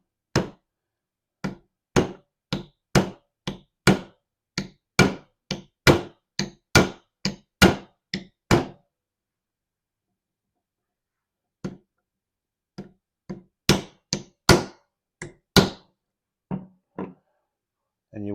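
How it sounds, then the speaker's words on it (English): Gentle hammer taps from the flat face seat a motor bearing on an older Snoo, a steady run of about a dozen sharp, close knocks, then a pause and a second, sparser series. "you're going to go ahead and use your hammer"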